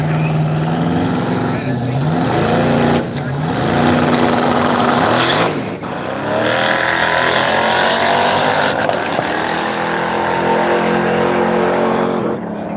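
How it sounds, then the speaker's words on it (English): A twin turbo LS-powered VK drag car launching at the Kenda Radial Drags at Willowbank, Australia, its engine roaring loud and continuous for over ten seconds with rising revs and tyres spinning, under a commentator's voice. "Blowing the tyres on the start"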